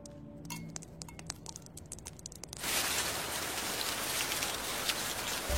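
Heavy rain pours down steadily, a dense broadband hiss with faint clinks early on before the downpour swells louder and stays constant.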